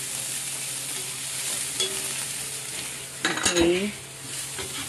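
Onions and garlic sauté in a pan for chicken tinola, giving a steady close sizzle; around the middle a utensil scrapes and clatters briefly, and a voice says a single short word.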